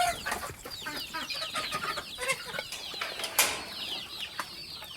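Native country chickens, about 20 days old, cluck and chirp in a busy flock on a poultry farm, many overlapping calls close by, with occasional wing flaps.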